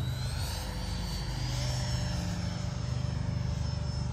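An RC Mirage 2000 with an 80mm electric ducted fan flies past in a steady, loud whine that rises slightly in pitch and holds, a continuous high-performance jet rush with no voices over it.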